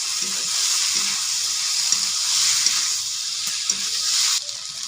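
Fish heads fry with mashed tomato and spices in a pan, giving a steady, moderate sizzle broken by a few soft, rhythmic stirring scrapes; the sizzle drops away abruptly just before the end.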